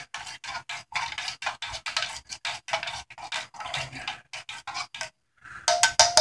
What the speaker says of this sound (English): Let's stir our curry soup real quick.